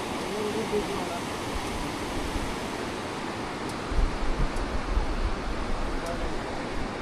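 Steady, broad rush of a flowing river in Turtuk, Ladakh, continuous and fairly close, with a slightly heavier churning surge partway through.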